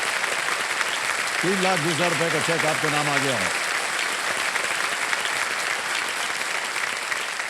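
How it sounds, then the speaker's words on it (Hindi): A studio audience on the Hindi quiz show Kaun Banega Crorepati applauds a contestant's win. The clapping is loud, continuous and fills the whole stretch, with a voice speaking briefly over it partway through. "तालियां बजती रहें जोर से।"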